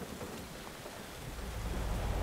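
Heavy rain with rumbling thunder in a Forza Horizon 5 driving game storm, a steady broadband wash that slowly swells louder over a couple of seconds, with no talking.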